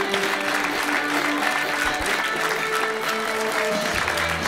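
Audience applause welcoming Armenia's European diving bronze medalists at a sports club event, a steady dense wash of clapping lasting throughout, with faint background voices and music tones beneath.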